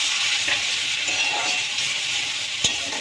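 A mixed spice blend of turmeric, chili, cumin and coriander fries in hot oil with a steady close hiss and crackle, broken by a few soft stirring scrapes and one sharp tap near the end.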